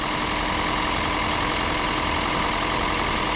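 A 2005 Toyota Prius warming up after a thermostat replacement gives a close, constant engine hum with no change in level throughout.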